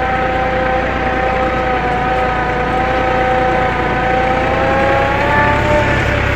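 A tractor in first gear pulling a three-bottom plough through a field, a loud, steady engine drone with a constant low hum and tonal whine, unchanging throughout with no talk.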